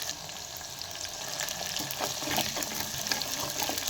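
Small onions and curry leaves fry in hot oil, giving a constant loud sizzle with crackling pops and scraping stirs close by.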